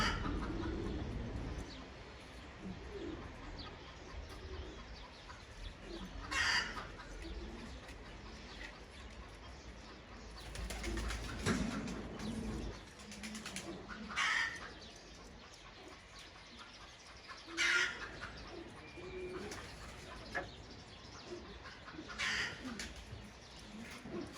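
Pigeons coo softly with a few scattered bursts of wing flapping, faint and fairly close, with no one talking.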